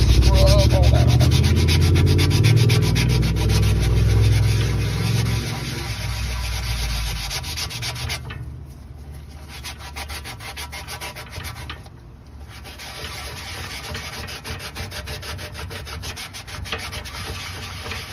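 A motorcycle tire surface is rubbed hard over a small area to clean it before patching, making a loud, continuous scrubbing that eases off partway through and carries on at lower level.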